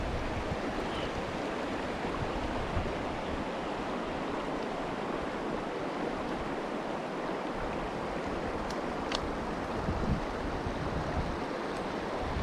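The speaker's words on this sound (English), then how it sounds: "We've made it to the river, and we're going to give you a little 360 view." A mountain river rushing steadily at the Ink Pots in Johnston Canyon, Banff, a constant broadband roar heard up close with no voices.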